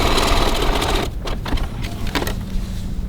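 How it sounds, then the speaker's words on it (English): A sewing machine stitching down a pocket on a large wallet, a loud close whirring run that stops abruptly, followed by a few softer clicks and handling sounds. "I'm just going to stitch down right beside it"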